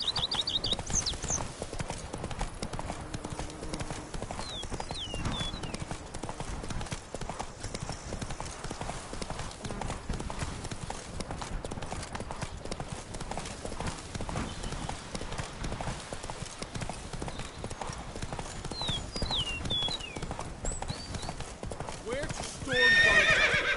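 Geralt's horse Roach galloping in a video game, a continuous rapid clip-clop of hooves with occasional whinnies, fairly quiet, under speech.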